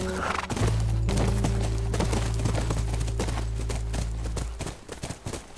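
Horse hooves clip-clop at a steady pace in the video game The Last of Us, with an occasional whinny, over a sustained low ambient drone and music.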